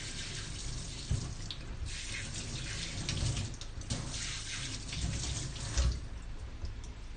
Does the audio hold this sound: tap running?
yes